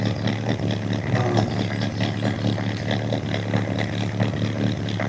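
A motorcycle engine runs steadily at a fast idle after being brought back to life, with an even mechanical clatter and hum while the ignition timing is set; no one speaks.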